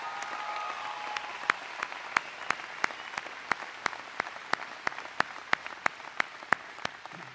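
A town hall audience in Montana applauds in a soft, distant wash, with sharp single claps landing in a steady, even rhythm on top.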